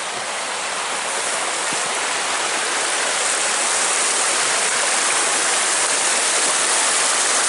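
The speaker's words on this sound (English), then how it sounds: "So this is the stream that feeds the waterfall." A crystal clear stream feeding a waterfall rushes in a steady, loud broadband hiss that holds unbroken from start to end.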